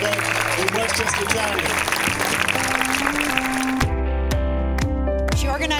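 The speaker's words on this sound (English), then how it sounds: "if we can just get one round of applause for the coolest kids ever" Crowd applause for a group of kids, a broad wash of clapping through the first part that gives way to loud music with a heavy beat and repeated hits, filling the clip without a break.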